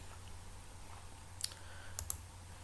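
A computer mouse clicks twice in quick succession, faint and close, while selecting a circle tool in GeoGebra, with a steady low hum underneath and no voices.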